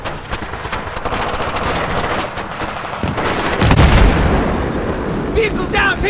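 Machine gun fire and explosions during an ambush in the Battlefield 3 video game, continuous loud rattling bursts with a heavy boom midway, and shouting voices mixed in.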